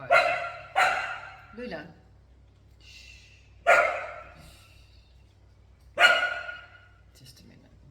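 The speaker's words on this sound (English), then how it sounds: "Puppies start barking." Puppies bark in several sharp, spaced bursts at close range, with a quiet pause between them and a person briefly speaking.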